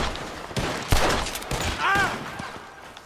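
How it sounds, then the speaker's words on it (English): Gunfire in Red Dead Redemption 2, a few sharp shots in a short burst amid game noise, with a person talking over it. "Can you shoot the dude right in front of you"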